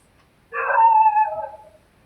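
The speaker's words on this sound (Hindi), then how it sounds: "साले कुत्ते दिमाग खराब करके रखे हैं" A dog howls once close by, a single wavering, whining cry about a second long that rises and then trails off into a whimper, alone against near silence.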